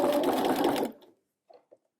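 A sewing machine stitches a narrow hem with a hemmer foot in a short, steady whirring burst close by, then stops, followed by a couple of faint clicks.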